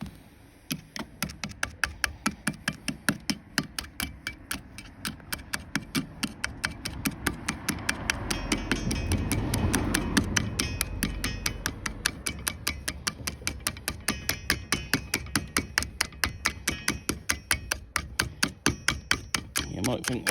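A steady series of light metallic taps on a rusty rear shock absorber being worked free on a Montego T16 Turbo, the strikes evenly spaced and repeated rapidly over twenty seconds with faint background rumble.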